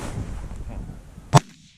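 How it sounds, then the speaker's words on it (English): A single sharp gunshot fired at a goose during a 2020 New York goose hunt cracks out loud and close, standing out sharply against a low murmur of outdoor background noise. "Shoot the bird."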